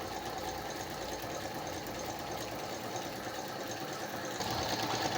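Singer Computer 9800DX sewing machine stitching, a quiet fast steady mechanical whir with a rapid needle rhythm, close and continuous without talk.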